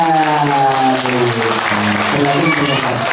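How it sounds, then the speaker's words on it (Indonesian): An audience claps for a child who has answered a quiz question at a Ramadan storytelling event. The applause is loud and sustained, with voices calling out over the clapping. "Tepuk tangan untuk Jihan"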